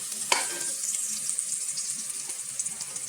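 Chopped onions frying in a pan while kofta masala is made, giving a steady, close hiss of sizzling with a brief clatter near the start and no talking.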